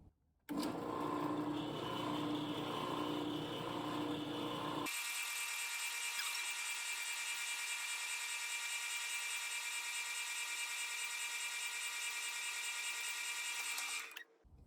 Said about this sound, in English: I'm going to be drilling all the holes